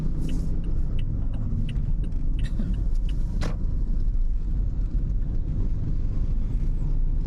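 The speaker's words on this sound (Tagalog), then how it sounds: "Pinaradaan ng mga tricycle doon." Motor tricycles rumble past on a busy street in Vigan, their low engine drone steady and close, with faint background voices and a few sharp clicks on top.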